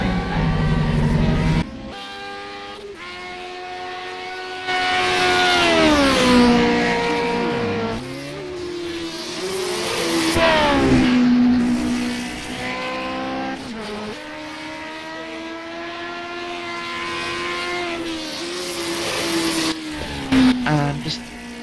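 A Lotus 49 race car engine at Indianapolis in a racing video game, a high, loud engine note rising and falling through gear changes and corners, with a commentator's voice over it.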